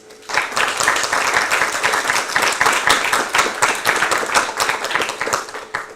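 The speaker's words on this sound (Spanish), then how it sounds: "les voy a pedir un aplauso para recibirlos" Steady, dense applause from an audience welcoming two speakers at a book presentation, loud and close, starting after a brief pause and sustained evenly throughout.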